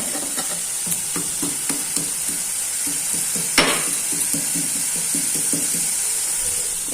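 Masala stir-fried in a pan makes a steady, close sizzle with a quick train of spoon scrapes and taps against the pan, plus one sharper clatter midway.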